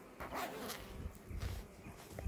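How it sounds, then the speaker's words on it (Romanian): Zipper pulled during a beekeeping visit, likely on a bee suit, heard as short rasping pulls amid rustling and low handling noise, with faint dog-like sounds in the background. "Deci trage fermoara."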